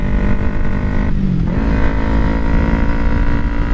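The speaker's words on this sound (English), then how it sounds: "I just downshifted" A 2012 Kawasaki Ninja 250R motorcycle engine runs loud and close, with a brief dip in revs as it downshifts, then it settles back to a steady drone.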